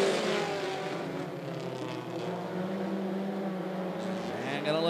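Mini stock cars racing in a heat race at 411 Motor Speedway, a continuous droning roar of several engines at full throttle, fairly distant and steady, with an announcer talking over it.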